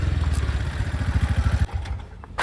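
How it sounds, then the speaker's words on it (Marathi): An auto rickshaw pulls up and arrives at a stay near Ganpatipule, its small engine throbbing with a rapid, close-by putter that cuts off partway before a brief noise near the end. "तिसरी रिक्षा पण आली आमची."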